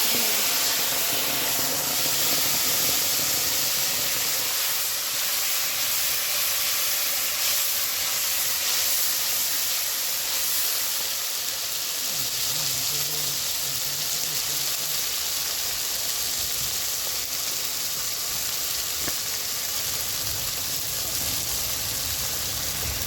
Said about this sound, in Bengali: শুকনো লঙ্কা জিরে ফোড়ন দিয়ে দিচ্ছি